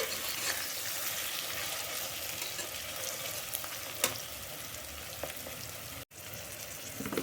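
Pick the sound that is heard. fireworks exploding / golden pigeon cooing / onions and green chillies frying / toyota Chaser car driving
onions and green chillies frying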